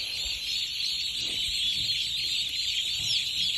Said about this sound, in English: on the other side of the brooder is your Thanksgiving turkeys